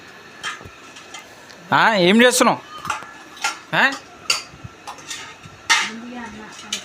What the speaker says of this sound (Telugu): రెండు గ్లాసులు తీసుకొని ఒక గిన్నె తీసుకొని దాంట్లో సౌండ్ చేసుకుంటా కూర్చున్నాడు